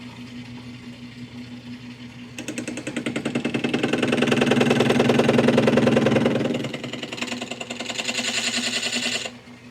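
A metal lathe cuts a cast iron workpiece. A steady machine whir and buzzing cut start after a couple of seconds, swell, ease off, then rise again before stopping. The sound is close and fairly loud.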